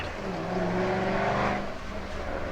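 A 2011 Ford Shelby GT500 lets out a low, rumbling exhaust burble at idle or off-throttle, heard from inside the car, steady and moderately loud with an uneven rolling texture.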